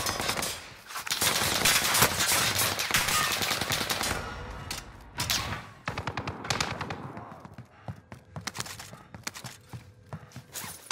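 Rapid automatic gunfire in a Call of Duty Rebirth Island match, a dense opening barrage of overlapping shots that thins into scattered bursts and single cracks, some nearer and louder than others.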